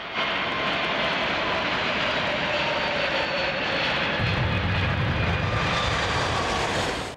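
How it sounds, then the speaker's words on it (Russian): An MC-21 medium-haul airliner's jet engines roar loud and steady during its takeoff run, a dense continuous drone with a deeper surge in the final seconds. "Новейший среднемагистральный авиалайнер расправляет крылья, набирает скорость и взлетает в небо."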